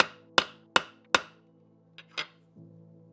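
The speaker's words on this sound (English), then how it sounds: "As a finishing touch, I stamped my channel name and year into the base." Metal letter stamps are struck into the base of a metal cube puzzle, three sharp, close hammer blows in an even rhythm, followed by a couple of softer taps and lighter knocks.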